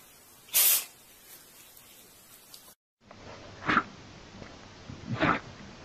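Windex Touch-Up Cleaner sprays in three short hissing bursts, one early and two later after a brief silence, each a quick airy spritz heard alone at close range.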